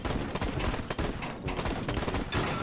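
Dense, continuous gunfire rattles throughout in the twin-stick shooter Bartlow's Dread Machine, rapid overlapping shots and impacts forming a steady barrage with no talking.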